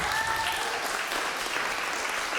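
Audience at a community gathering giving a round of applause, dense continuous clapping from many hands, fairly loud and even, with faint voices mixed in beneath.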